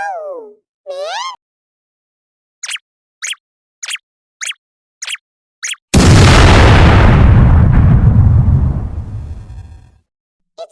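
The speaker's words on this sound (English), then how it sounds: "It's a good thing they have a bomb in the room." A bomb explodes in an animated cartoon with a sudden loud, broad boom that rumbles and fades over about four seconds, following cartoon bird chirps and a quick series of short plucky pops.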